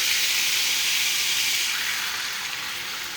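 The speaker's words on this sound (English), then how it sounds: "Coffee and bacon grease cooking together, man, it's good." Coffee poured into bacon grease in a hot pan hisses in a steady, loud steamy sizzle that slowly fades a little, with no one speaking.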